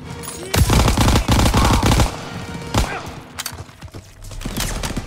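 Gunfire in the Call of Duty WW2 video game: loud bursts of rapid automatic fire and sharp shots crackle close up, with brief gaps and a rumbling tail between volleys.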